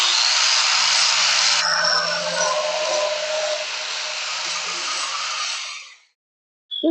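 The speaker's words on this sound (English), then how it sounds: "I'm going to hit it with the grinder." Angle grinder working a freshly forged blacksmith knife blade, a loud continuous abrasive whine with a steady low hum that holds for about six seconds, then cuts off, no talking.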